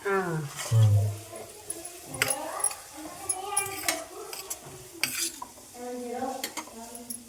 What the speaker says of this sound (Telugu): కొంచెం అన్నం కలుపుకుని ఒక చెంచా నూనె అయితే వేసుకుంటున్నాను